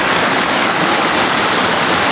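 Steady, loud rush of river water flowing at night beneath a bridge, a continuous broadband roar with no breaks and no voices.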